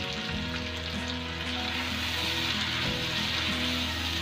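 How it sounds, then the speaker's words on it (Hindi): About half a kilo of chicken frying in a karahi for Khyber Shinwari chicken karahi, a steady, loud, close sizzle of hot oil throughout, with no talk. "अब इसको हम अच्छा सा फ्राई करेंगे।"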